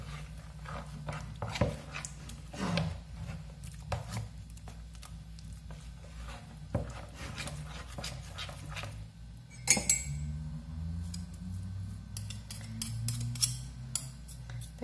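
Gluten-free bread batter made with cornmeal, starch and sweet manioc flour is stirred by hand in a bowl, with soft irregular scrapes and light clinks of a utensil against the bowl, quiet and close, with no talk.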